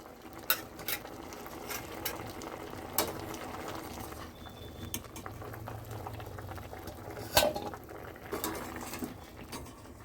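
Boiled mixed vegetables are lifted out of a bubbling pot, with soft steady boiling, light metal clinks of a utensil against the pan and occasional sharper knocks, fairly quiet and without speech.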